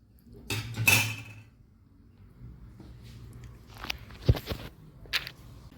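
Lentil and fenugreek leaf curry stirred in a pot, with a few scraping, clinking knocks of the spoon against the metal and soft wet squelches, fairly close and spaced out, no talking.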